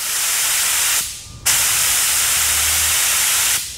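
A loud, steady hiss of a SATA paint spray gun at 26 to 28 psi, cut off briefly for half a second, then resuming at full strength before fading.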